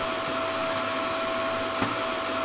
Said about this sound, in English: I need the power of the vacuum cleaner.